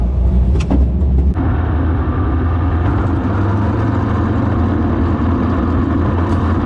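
Sprint car engines at Butler Speedway drone in a dense, loud, continuous rumble as the cars run four wide, with a couple of sharp knocks early on and no talking.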